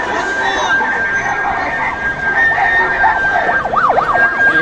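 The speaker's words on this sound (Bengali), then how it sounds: "এই অ্যাম্বুলেন্সে কি রুগী?" An ambulance siren wails through a street during a protest in Rampura, Dhaka, its rising and falling tone swelling louder toward the end amid crowd and traffic noise.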